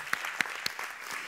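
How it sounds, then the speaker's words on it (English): Church congregation clapping at a Sunday gathering, a steady wash of applause with a few sharper individual claps standing out, moderately loud and brief. "we're clap happy around Acacia."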